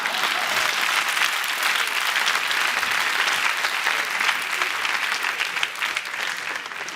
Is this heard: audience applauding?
yes